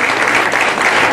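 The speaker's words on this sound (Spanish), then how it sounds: "Un aplauso para todos los participantes," Dense, steady applause from an audience at an awards ceremony for race participants, a continuous wash of many hands clapping, loud and sustained without a break.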